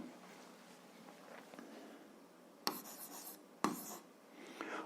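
A pen scratches on paper while algebra exercises are written out by hand, quiet rubbing strokes with two sharper taps or clicks, close and faint with no talk.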